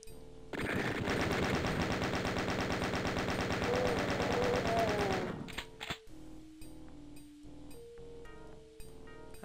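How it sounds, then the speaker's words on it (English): Rapid machine gun fire in the video game Doom II, a loud sustained burst of evenly spaced shots for about five seconds, then quieter game sounds and tones. "I'm not afraid to keep using the machine gun."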